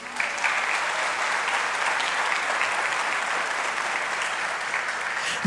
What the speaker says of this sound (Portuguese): Pode também dar um aplauso a Jesus?